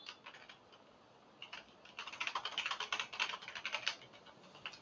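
Rapid typing on a computer keyboard, quiet close clicks that start sparse and then run into a dense, steady burst of keystrokes, with no talking.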